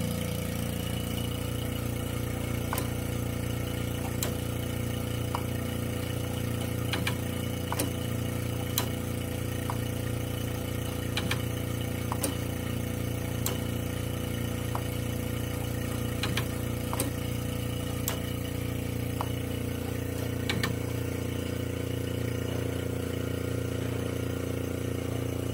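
K&S 4524 wire bonder working semi-automatic gold-wire bonds gives faint intermittent sharp clicks over a steady machine hum, close and without speech.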